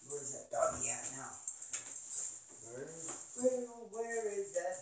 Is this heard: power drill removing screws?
no